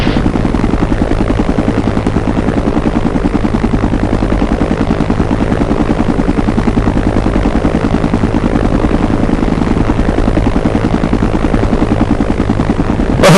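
Helicopter in the combat video game Operation Flashpoint: a loud, steady rotor thump with a low engine drone running unbroken throughout, no talk over it.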